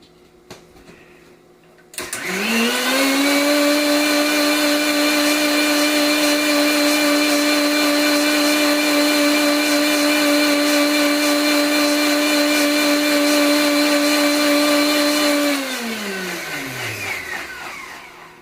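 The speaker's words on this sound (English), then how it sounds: "we'll add that to our mixer here and continue to blend until it's mixed thoroughly" An electric mixer blends brahmi leaves with water to make brahmi swarasa, spinning up sharply into a loud steady whine that holds for about thirteen seconds, then winds down as the motor stops.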